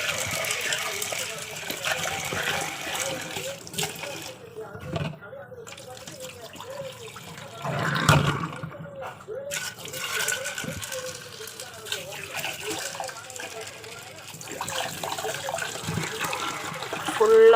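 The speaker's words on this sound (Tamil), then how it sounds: "ஃபுல்லாக தண்ணி ஊற்றி வச்சுருவோம்." Water poured into a vessel to soak broad beans (mochakkai) in a home kitchen, a steady trickling and gushing stream with a brief louder splash midway, while people talk quietly around it.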